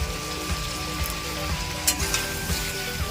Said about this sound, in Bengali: সবগুলো সুন্দর করে নেড়ে কষিয়ে নেব